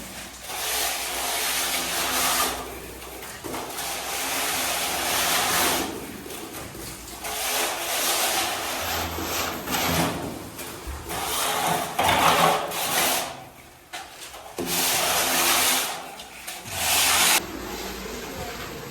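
A trowel scrapes and rubs a bottom coat of plaster across a hall wall indoors, giving steady, rasping strokes that rise and fall in repeated bursts with brief pauses between passes, and no talk over them.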